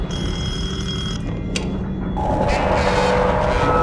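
An old telephone rings in the horror game Detention, a bright sustained ring that comes in over a low, ominous background drone. A sharp accent sounds partway through, and the ringing swells toward the end with no voices.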